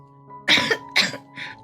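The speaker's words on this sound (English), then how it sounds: "suddenly started coughing." A woman gives a few short coughs, two strong close bursts and then a lighter third, with no talk.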